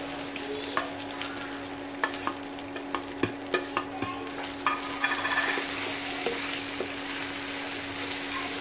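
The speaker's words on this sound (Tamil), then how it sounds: "துவையில சேர்த்துட்டு அப்படியே நம்ம வதக்கி விட்டுக்கிறோம்" Chutney paste of urad dal, mint and coriander being sautéed in a pan with fried mustard seeds and curry leaves: steady close sizzling with repeated sharp scrapes and clicks of a stirring spoon against the pan, no voices.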